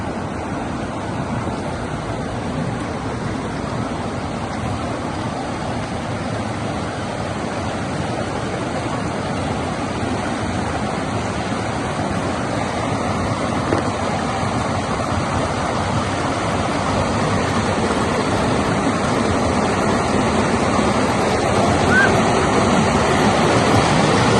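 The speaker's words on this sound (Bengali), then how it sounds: "এই পথ ধরে পানি এসে ঠিক এই সাইড দিয়ে বের হয়ে যাচ্ছে পানিটা" Water flows at Shoilopropat waterfall in Bandarban with a continuous, loud rushing roar that holds steady and grows slightly stronger toward the end.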